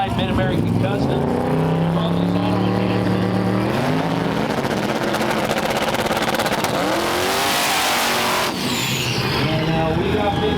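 A Mustang drag race car at the starting line of a no-prep drag race in Alabama, its engine loud and close, rising and falling through revs before a high, hissing roar builds and drops away.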